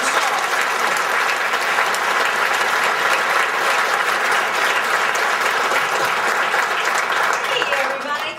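Loud, sustained applause and cheering from a comedy club audience welcoming comedian Danielle Broussard to the stage, a dense unbroken roar of clapping close by, tapering slightly at the end.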